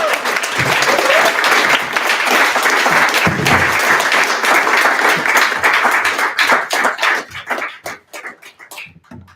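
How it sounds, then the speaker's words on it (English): Audience applause following a poetry reading at a Poets & Pints Black History Month show, a dense, sustained crowd clapping that thins into scattered individual claps toward the end. "Y'all give another warm round of applause for Lamonte the Poet"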